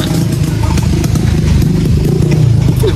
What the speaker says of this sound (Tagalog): yung mga motor na dumadaan